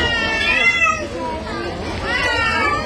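A cat's drawn-out, wavering meows mixed with a person talking at close range, the cries rising and falling almost like a crying baby.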